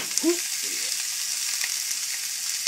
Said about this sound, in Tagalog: Igigisa po natin ang baka.